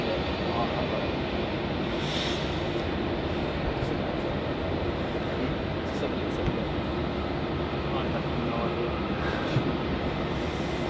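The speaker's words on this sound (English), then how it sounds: "we have Singapore Airlines 777 arriving in from Singapore" A Singapore Airlines Boeing 777 arrives at Melbourne Airport from Singapore, a continuous broad jet rumble at moderate level, with voices faintly present underneath.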